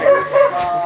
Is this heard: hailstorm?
no